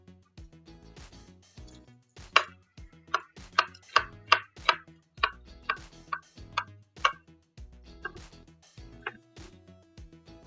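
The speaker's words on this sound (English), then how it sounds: "let me cut up a half a onion here" Knife chopping half an onion on a cutting board, a quick run of sharp, close taps that speeds up into rhythmic strikes and then thins to scattered cuts, with no talk.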